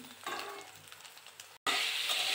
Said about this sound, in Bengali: এবার কোপ্তাগুলোকে আমি হালকা করে ভেজে নেব, লাল করে ভেজে নিচ্ছি।